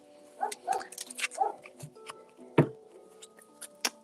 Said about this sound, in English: my dogs are upset about that